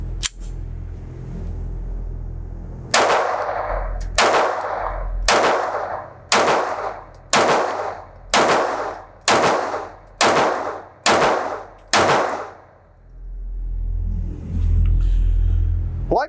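Ten sharp shots from a Browning Black Label 1911 pistol in .22LR, loaded with CCI Mini-Mag rounds, crack out at an outdoor range in a steady, evenly spaced string, each with a short echoing tail, followed by quiet.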